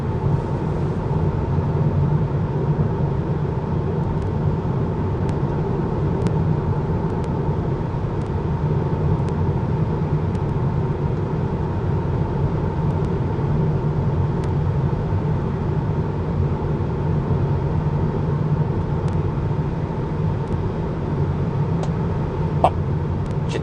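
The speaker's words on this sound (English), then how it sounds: "it's noisy because the surface over here is quite rough. Plus that Model 3 is quite a noisy car." A steady, loud low roar of tire and road noise fills the cabin of a Tesla Model 3 Standard Range Plus driving over a rough road surface, continuous throughout with occasional faint ticks.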